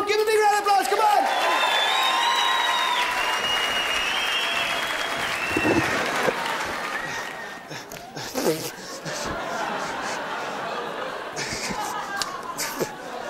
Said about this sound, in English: Give it up, give a big round of applause, come on.